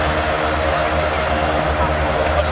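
Piston-engined T-6 Texan and Harvard warbird trainers roaring past at an airshow, a steady loud propeller drone with deep throbbing engine tones that holds throughout.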